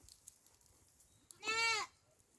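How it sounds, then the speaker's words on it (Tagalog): A naughty goat on a farm in a rural province gives a single short, loud bleat over quiet background. "Ito yung kambing na sobrang naughty."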